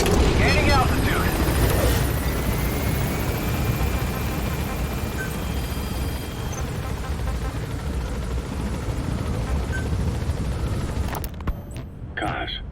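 A helicopter in the video game Metal Gear Solid V climbs with a loud, continuous low rotor roar that fades slightly before cutting off near the end, with voices from the game over the top.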